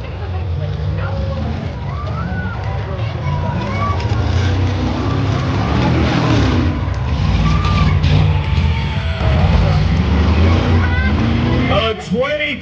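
A 1997 Ford Explorer runs a Tuff Trucks off-road course at Prineville, Oregon, its engine revving and roaring at a distance through a continuous crowd-event din, with an announcer talking throughout.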